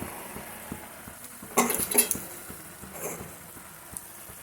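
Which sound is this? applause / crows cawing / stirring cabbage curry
stirring cabbage curry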